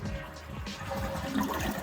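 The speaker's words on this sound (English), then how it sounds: "Give it a flush." A toilet flushes right after its tank has been scrubbed and descaled, a steady close rush of draining and refilling water with no voices.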